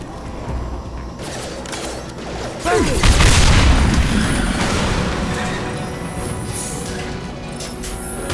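Explosions and crashing blasts from tanks being blown up during a Mass Effect 2 firefight, a loud sustained boom swelling midway and rumbling on under faint voices.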